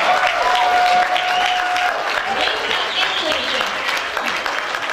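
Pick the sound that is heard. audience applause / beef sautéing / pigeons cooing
audience applause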